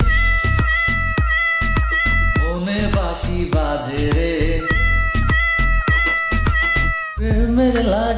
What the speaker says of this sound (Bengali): দুষ্টু বিড়াল ডাকে রে